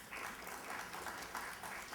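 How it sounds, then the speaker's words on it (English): A morning audience at a university event claps in a brief round of applause, a soft, distant wash of hands. "So give yourselves a round of applause for just being here this morning."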